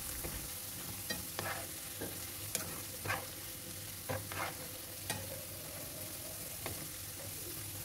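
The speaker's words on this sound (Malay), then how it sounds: "Goreng kentang ni sehingga garing." Constant crackling sizzle of potatoes frying in hot oil, with occasional scraping stirs and clinks, close and steady throughout.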